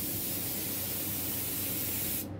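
A budget paint spray gun sprays continuously in a steady, loud, close hiss that cuts off abruptly at the end.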